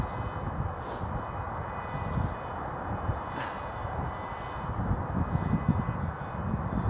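A Bixler RC model plane flies at night, its motor giving a steady, fairly faint droning hum that holds throughout with no talking over it.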